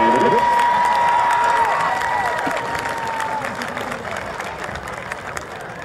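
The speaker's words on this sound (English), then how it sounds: "Let's have a big round of applause" Sustained applause and cheering from a large crowd at a high school homecoming event honoring the queen candidates, dense and steady, gradually easing off over several seconds.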